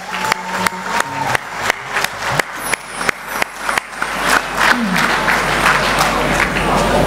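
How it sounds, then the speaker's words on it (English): An audience at an awards ceremony for apprenticeships applauds, the clapping first punctuated by sharp rhythmic beats, then swelling into a dense, continuous roar that lasts to the end. "big round of applause for learning providers."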